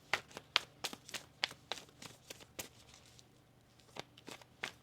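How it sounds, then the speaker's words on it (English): Tarot cards are shuffled by hand at close range. Quiet, irregular papery riffles and snaps come in short bursts against a faint background hum. "One more shuffle?"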